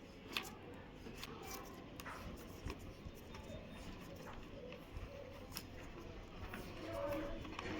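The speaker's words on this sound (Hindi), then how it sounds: "पहले न्यूट्रल को टेप करेंगे" Electrical tape being stretched and wrapped around a neutral wire connection for cooler wiring, a run of soft crackling and ticking peels and rustles repeating irregularly at close range with low background noise.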